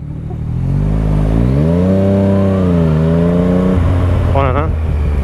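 A Yamaha MT-09 motorcycle pulls hard under throttle, its engine note climbing steadily through the revs before a gear change, heard loud and close from the rider's position with wind rush and a brief voice near the end.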